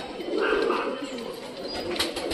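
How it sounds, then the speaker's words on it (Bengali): Pigeons coo softly and repeatedly nearby, their low, rolling calls mixed with people talking over them. "এইবার টోটালি এই পায়রাগুলোকে ঘরে ঢোকাতে হবে।"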